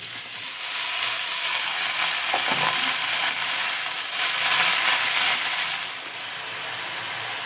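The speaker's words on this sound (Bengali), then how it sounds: "এবার দিয়ে দিচ্ছি কোচানো শাকটা" Chopped pumpkin greens go into a hot pan with fried fish head and nigella seeds, setting off a loud, dense, steady sizzle that hisses on without pause.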